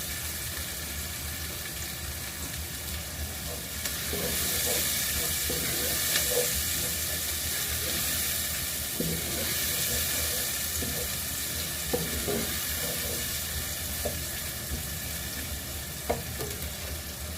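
Onions fry in a pan, giving a steady close sizzle and hiss throughout, with occasional small pops and stirring clatter, for a mixed vegetable dish cooked in a student kitchen.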